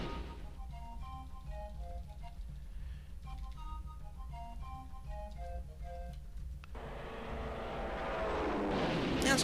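Fighter aircraft engines in the strategy game Civilization II drone low and steady beneath a light melodic tune, then swell into a louder, rushing roar that builds toward the end.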